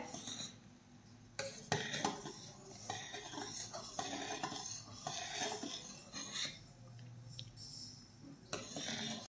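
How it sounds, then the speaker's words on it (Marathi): A spoon scrapes and clinks against a metal pot while boiling milk is stirred, irregular strokes with sharp knocks, fairly quiet and close, no talking. "तर इथे आपल्या दुधाला उकळी आलेली आहे। आता आपण ते छान हलवून घेऊयात।"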